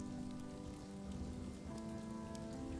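Steady rain falling in a village, a dense continuous patter holding even throughout with a sustained tonal backdrop and no voices.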